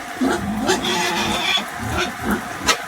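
Young pigs being raised on a farm grunt and snuffle in a noisy pen, with low grunts overlapping a steady background din.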